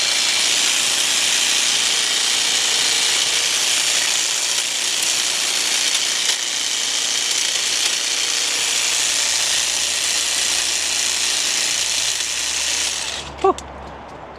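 Milwaukee M18 Fuel hedge trimmer attachment cutting a hedge outdoors, a loud, steady buzzing whine of reciprocating blades running continuously for about thirteen seconds before abruptly shutting off.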